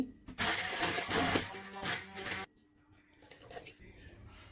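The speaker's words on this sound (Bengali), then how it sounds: "এবার আমি এটা ব্লেন্ড করে নেব" A blender whirs loudly for about two seconds blending soaked ingredients with a little water for green juice, then shuts off, leaving quiet clatter and small knocks.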